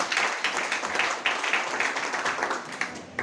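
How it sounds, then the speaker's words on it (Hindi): Audience applause at a business plan presentation, a dense, steady wash of many hands clapping at moderate loudness, continuing evenly for a few seconds with small swells. "एक जबरदस्त ताली इस रैंक के लिए।"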